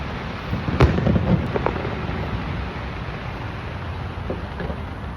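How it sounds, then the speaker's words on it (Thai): Fireworks bursting outdoors at a Singapore display, a few sharp pops and crackles early on, then a steady wash of distant rumble and crowd-like ambience. "เพิ่นจุดพลุเฮาก็ต้องได้หยุดเบิ่งก่อน"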